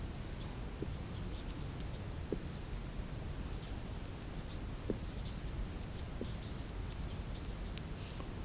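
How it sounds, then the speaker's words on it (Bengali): Chalk or marker writing on a classroom board makes faint scratchy strokes with a few soft taps, under a steady hiss of room noise. "তো আমি বোর্ডে লিখছি"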